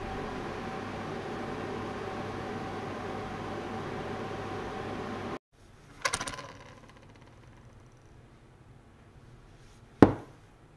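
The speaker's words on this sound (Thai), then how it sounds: "แล้วก็เอาไปใส่ในไมโครเวฟประมาณ6นาทีนะคะ" A microwave oven hums steadily while cooking soaked sticky rice with a little water, the drone running evenly for about five seconds before cutting off, followed by a couple of sharp clicks or clunks of the door and controls.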